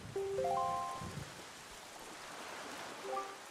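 Steady rain falls on a dark island in Zelda: The Wind Waker HD, a soft even hiss lasting the whole moment, with a few bright game chime tones near the start and end.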